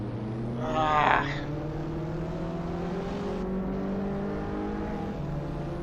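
Abarth race cars in Assetto Corsa, a steady engine drone with a rising whine as one car briefly surges louder, under continuous engine noise throughout.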